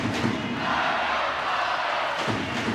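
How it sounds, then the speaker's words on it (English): A basketball crowd at a President's Cup final between Ballincollig and Keane's SuperValu Killorglin roars in a steady, dense wash of cheering and shouting, with a few dull thumps within the noise. "Crowd are getting into it here."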